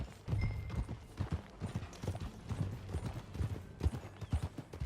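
Horse hooves clip-clopping at a steady riding pace in Red Dead Redemption 2, close and fairly quiet, with a soft snort or two and faint ambient background.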